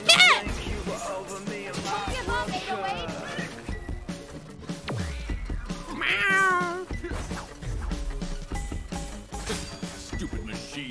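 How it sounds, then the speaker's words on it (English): A cat being beaten up in the video game Hi-Fi Rush gives repeated loud meows and yowls, mixed with game hits and crashes. "He's fucking beating up a cat!"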